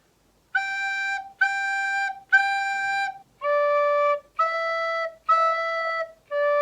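Opening two measures of Old MacDonald played on a melodic instrument, starting on G: eight sustained, evenly spaced notes with brief gaps between them, clear and close with no talking.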